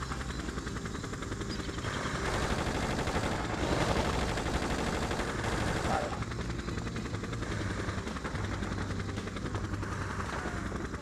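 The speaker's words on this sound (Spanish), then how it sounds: "El helicóptero no para de dispararme" Helicopter hovering and firing its guns in the video game Just Cause, a constant rotor thrum under bursts of rapid gunfire that swell in the middle, with in-game music and effects layered together.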